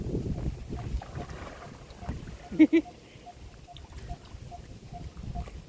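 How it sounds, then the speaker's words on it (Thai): Strong wind at a large pond at high water buffets the microphone with rumbling low gusts, loudest at the start, while voices and sharp splashing or thudding sounds come and go. "โอ้ยลมแรงมากค่ะ"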